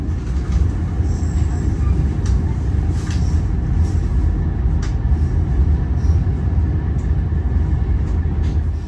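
KA Gajahwong passenger train pulling into Lempuyangan station, a steady loud low rumble of the rolling carriages heard from inside, with faint clanks and higher rail squeaks scattered over the continuous drone.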